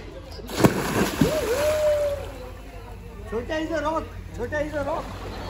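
Water splashes and sloshes nearby while someone talks over them, with a sharper splash near the start.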